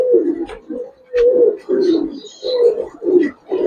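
Domestic pigeons, a Giribaz highflyer pair, give repeated close, loud throaty coos in a steady rhythm of about six phrases, with short pauses between them.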